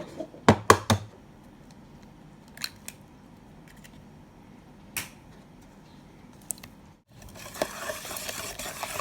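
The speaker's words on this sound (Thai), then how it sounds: "คนให้เข้ากันค่ะ" Crepe batter with a large egg is stirred in a bowl, giving a few sharp clinks of the utensil against the bowl, then quiet scraping and a burst of brisk stirring at the end.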